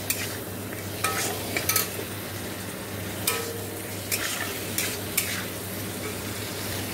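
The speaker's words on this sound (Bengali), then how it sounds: "দেখো মাছগুলো ভাজা হয়ে গেছে, এখানে দেখো আমি মশলা দিয়ে কষাচ্ছি" Fish with spices frying and stirred in a pan, a steady loud sizzle with occasional metal spatula scrapes and clinks against the pan.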